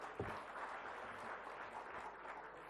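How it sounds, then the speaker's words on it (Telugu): Audience applause for Revanth Reddy at a public event, a steady wash of clapping from a crowd, faint and distant. "come on give a big claps to Revanth Reddy"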